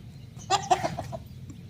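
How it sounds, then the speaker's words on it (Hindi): Two hens feeding on millet give a short burst of soft clucks close by, over a low, steady background hum. "इधर हमारे मुर्गी है, दोनों बाजरी खा रही है"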